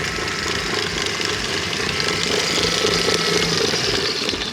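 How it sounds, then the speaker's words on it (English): A stand mixer with a whisk attachment runs steadily, beating a thick tiramisu mixture with a continuous mechanical whir and hum that stays loud and even throughout, with no talking. "I can get my mixture to be a thicker mixture without bending or breaking my whisk attachment."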